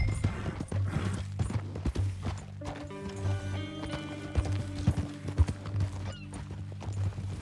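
Horse hooves clip-clop steadily at a walk in Red Dead Redemption 2, with an occasional snort over a low ambient game soundtrack; fairly close and moderate in level, no talking.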